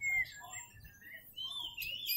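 Magpie robins sing at a songbird contest, their sharp chirps and bright whistled phrases coming in short bursts over a low murmur of background crowd noise.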